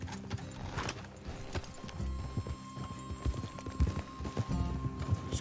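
A horse gallops in Red Dead Redemption 2, its hooves pounding in a quick, steady rhythm close by, with a brief whinny and a faint tonal game score underneath.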